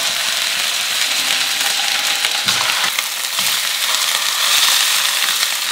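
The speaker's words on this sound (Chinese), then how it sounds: "现在来把鲫鱼煎一下" Crucian carp frying in a pan over ginger and scallion, giving a continuous, busy sizzle and crackle with occasional sharper pops, close and fairly loud, with no speech.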